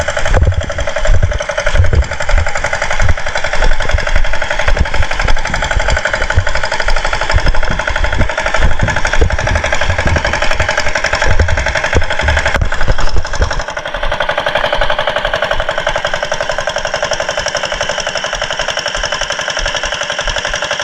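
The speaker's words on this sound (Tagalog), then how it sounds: "Matikas pa rin mga kasulo yung aking makina, oh, kuliglig, tractor." A kuliglig hand tractor engine runs steadily and loudly nearby, its rapid knocking, machine-gun-like chugging continuing for about twenty seconds, with the tone shifting slightly partway through.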